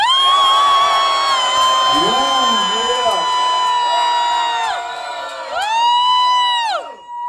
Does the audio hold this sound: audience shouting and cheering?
yes